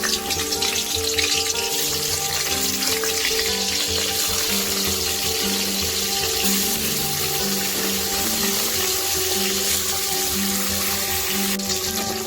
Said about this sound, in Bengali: এবার আমরা মাছটা ভেজে নেব। মাছের টকের মাছগুলো হালকা করেই ভাজতে হবে।